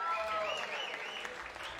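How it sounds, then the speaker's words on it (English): Applause from the audience at a memorial concert, a steady mass of clapping with crowd noise and a voice talking over it. "Let's have a big round of applause for the Harlow staff who's working here tonight"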